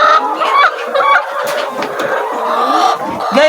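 Chickens on a poultry farm cluck loudly and continuously, several birds close by with overlapping calls and an occasional higher squawk.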